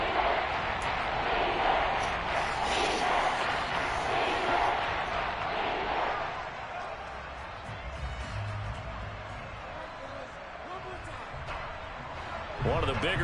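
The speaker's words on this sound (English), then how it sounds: "The crowd getting into it as we come up on a big 3rd down." A football stadium crowd roars and cheers ahead of a big third down, a dense, loud wash of voices that swells early, eases slightly midway and surges again at the end, with a commentator talking over it.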